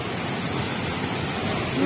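The Rio La Paz waterfall in Costa Rica roars steadily, a constant loud rush of falling water from start to end.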